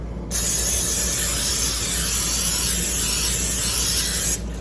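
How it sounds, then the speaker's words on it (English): A steady hissing spray of cooking spray onto a pan runs for about four seconds, close and even, then cuts off abruptly. "And we're going to spray the pan."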